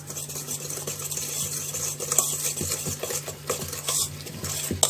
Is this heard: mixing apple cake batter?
yes